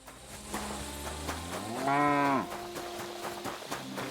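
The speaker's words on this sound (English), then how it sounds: "Jesus, was that a cow? That sounded like a cow." A single loud, drawn-out cow moo rises near the middle of the clip in Kingdom Come: Deliverance II, set against steady game ambience with faint clicks and no talking.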